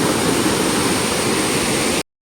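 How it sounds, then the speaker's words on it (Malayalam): Strong white foaming sea current rushes at Varkala beach, a loud, steady roar of churning water close by, continuous until it cuts off abruptly. "നല്ല വെളുവെളാന്ന് നല്ല പതഞ്ഞൊഴുകുക, നല്ല ഒഴുക്കുണ്ട്."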